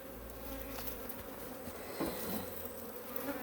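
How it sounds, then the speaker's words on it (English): Honey bees buzzing steadily inside a well-populated hive box, a dense, continuous drone heard up close with no talking over it. "I have a very good population of bees in this box"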